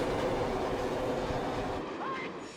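A New York subway train pulls into the station during the chase in the 1971 film The French Connection, a loud continuous rumble of wheels and cars with a brief squeal near the end as it slows.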